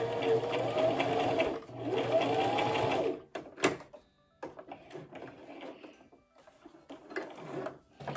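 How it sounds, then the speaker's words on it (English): A sewing machine runs in two steady bursts of mechanical whirring and stitching, then falls to quieter clicks, handling and fabric rustle. "And then I'll start sewing."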